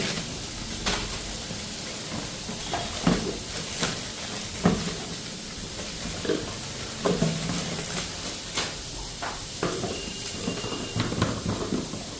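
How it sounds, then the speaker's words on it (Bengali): Cabbage, onion and carrot fry in a pan with a continuous close sizzle and hiss, broken by repeated scraping and clattering stirring strokes throughout, with no voices. "বাঁধাকপি পেঁয়াজটা একটু গাজরটা ফ্রাই করে নিলাম"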